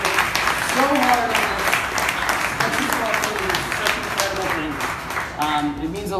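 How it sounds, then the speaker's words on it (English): A conference audience at a travel summit in New York applauds in a sustained round of clapping, with voices speaking over the applause. "Please give them a round of applause, guys"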